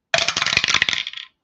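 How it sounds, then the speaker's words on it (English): Dice are re-rolled for an APBA baseball game, making a quick rattling clatter of bouncing dice, close and crisp, with no talk, lasting just over a second before settling. "I have to re-roll some dice here."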